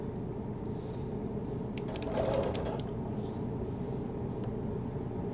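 Machine quilting a Baltimore album quilt, a sewing machine running in a steady fast stitching patter with a brief louder burst of rattling in the middle, alone without talk.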